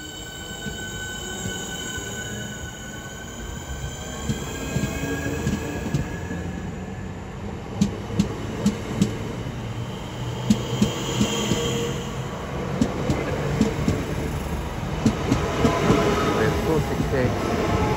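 A Southeastern class 465 electric train departs Bromley South station on the South Eastern Main Line, its motors rising in pitch with clicking wheels and squealing over joints, growing steadily louder and closer over a long stretch.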